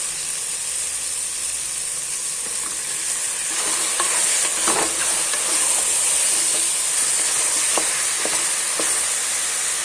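Washed chicken for chicken biryani fries and sizzles in a pot, a steady bright hiss with scattered stirring scrapes and clinks, close and continuous.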